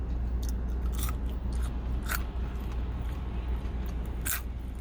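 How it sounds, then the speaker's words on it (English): Eating Burger King food inside a car, with sharp crunching bites at irregular intervals over a low steady cabin hum, close and distinct. "Crunching and munching. Crunching, crunching, munching."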